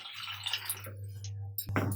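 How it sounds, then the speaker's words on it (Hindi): About a litre of water is poured into kadhi simmering in a pot over a low gas flame: a steady splashing stream that fades into a low hum, then a short, sharper burst of pouring near the end. "अब मैं इसमें लगभग 1 लीटर तक पानी डाल देती हूँ।"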